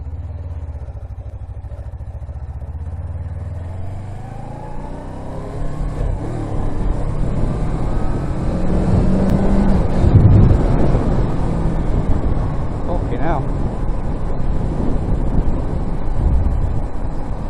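A Suzuki motorcycle on a quick lap. The engine note rises after a few seconds and holds loud and steady under heavy wind rush, with some light rattling throughout.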